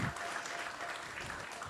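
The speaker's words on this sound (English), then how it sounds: "Let's all give them applause for leading such a melodious kirtan." Faint, steady applause from a gathering after a devotional kirtan, a brief wash of clapping heard from a distance.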